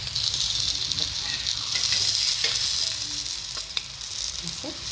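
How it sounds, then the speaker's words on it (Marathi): Oil hisses and sizzles around a dhapate flatbread on a hot griddle as more oil is poured along the edges, a steady, close, bright frying sound with a few faint pops. "असं साईडने पण तेल व्यवस्थित सोडून घ्यायचं आहे."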